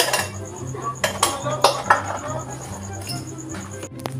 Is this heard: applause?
no